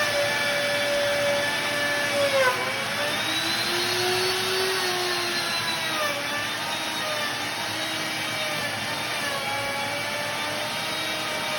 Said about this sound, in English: you want to talk about making some wood chips, the router's a tool to use